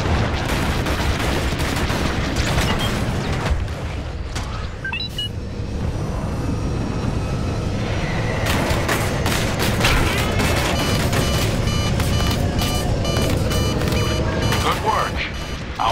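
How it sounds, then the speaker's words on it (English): A Y-Wing bombing run in the video game Star Wars Battlefront II, heard from a cockpit over Fondor Shipyards: a constant engine roar carries rapid blaster bursts and booms. Radio chatter plays over it. "Our Y-Wings finished their bombing run."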